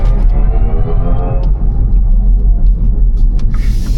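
A MINI Aceman electric car in go-kart mode drives along with a deep, steady synthetic engine rumble and road noise, a faint tonal whine falling away, close and constant.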